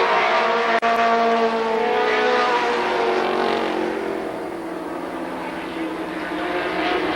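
Race cars, among them a V6-powered Camaro, roar past at Columbus Motor Speedway in a loud, dense engine drone that swells and then fades slightly as the pack moves away, with a brief click near the start.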